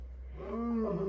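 A lion on the Kilimanjaro Safari at Animal Kingdom lets out a low, swelling roar that builds from a rumbling breath into a sustained tonal bellow, heard at moderate distance.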